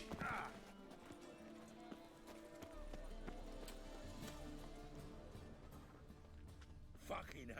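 Horse hooves clip-clopping in The Witcher 3: Wild Hunt video game, a quiet rhythmic trot under game background sounds, with a brief whinny-like burst near the start and end.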